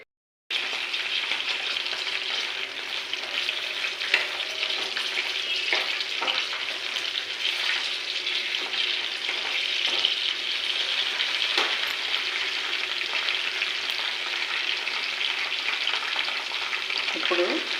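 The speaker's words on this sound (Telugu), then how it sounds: "ఆయిల్ లేకుండా వేయించుకోవాలండి" Ingredients dry roasting in a pan without oil, a steady crackling sizzle with occasional scraping stirs and light rattles, close and continuous throughout.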